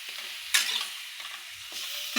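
Food is roasted in masala in a pan, giving a steady frying sizzle with short bursts of scraping as it is stirred, close and alone.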